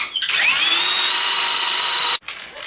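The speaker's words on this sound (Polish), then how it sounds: "Nawiercamy je takim wiercą opaskowym, dwunastką, żeby móc przełożyć właśnie yy, taką grubszą linę." Power drill with a 12 mm hole saw boring through a wooden disc for a parrot toy: a loud, steady high whine for about two seconds, stopping abruptly, close up and alone.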